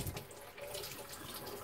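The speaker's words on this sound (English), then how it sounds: "I'm gonna run it under hot water and kind of work the juices out of the fiber" Hot water running steadily from a sink tap while a cloth is rinsed, a close, continuous splashing rush with no talk.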